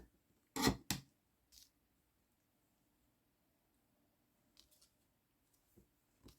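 Scissors trimming paper ephemera for a farmhouse journal: a couple of sharp, close snips, then a pause and a few faint scattered cuts, quiet and without talk.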